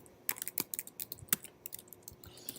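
Rapid, uneven clatter of keys on a computer keyboard as code comments are typed, dense clicks and taps close up with no talking.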